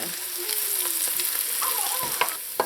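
Sliced bitter melon (carallie) fries and browns in a pot, giving a steady dense sizzle and crackle throughout with occasional stirring scrapes and clicks, close and fairly loud, with no voices.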